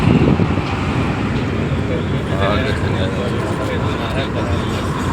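Vehicles passing on a road outdoors make a continuous low rumble with wind buffeting the microphone, while a voice talks over the traffic.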